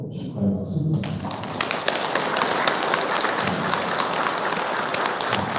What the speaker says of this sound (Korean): 우리 한상의 신혼부부를 해서 축하의 박수 부탁드립니다.